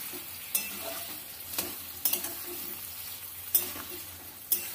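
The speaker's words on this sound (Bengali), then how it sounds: "এবার ভালো করে মশলার সঙ্গে আলু টমেটো কষিয়ে নেব।" Potatoes and tomatoes frying with spices in a pan at medium heat give a quiet, steady sizzle, broken by several sharp scrapes and knocks of a spoon stirring the pan.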